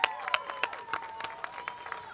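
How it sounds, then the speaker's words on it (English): Crowd applause for police officers and new recruits at an outdoor Bike to School Day event, a brief, fairly soft patter of clapping from a modest group, with a thin tone running underneath. "Give them a big round of applause."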